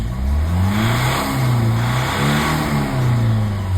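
A Lexus car engine revs close by, its mid-pitched note rising and falling in several swells over a steady running drone.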